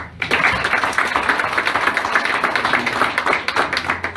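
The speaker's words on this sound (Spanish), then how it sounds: "para quien pido un fuerte aplauso" An audience at a mock oral commercial trial hearing claps for a lawyer, a busy, fairly close patter of hands with a few louder individual claps, lasting a few seconds.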